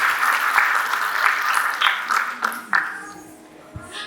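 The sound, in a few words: audience applause for Bharatanatyam dancer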